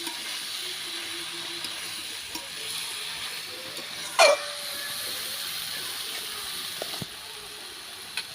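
Jackfruit being stirred with fried-down spices in a pan over a clay earthen stove, giving a steady soft sizzle with scraping, one brief louder clatter midway and a few faint knocks.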